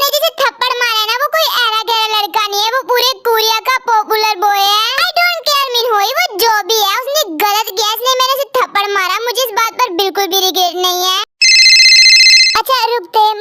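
A phone rings with an incoming call, a bright repeating electronic ringtone that cuts in suddenly near the end after a stretch of young voices talking with music underneath.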